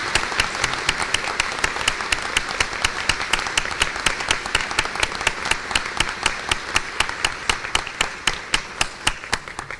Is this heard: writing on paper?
no